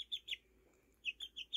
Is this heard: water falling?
no